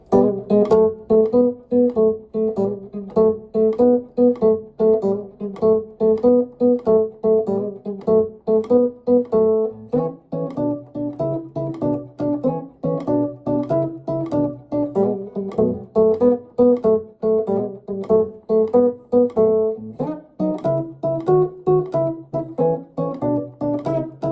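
An electric guitar plays a repeating Chicago blues pattern, with open strings ringing through steady rhythmic picked notes, loud and close, with no voices over it.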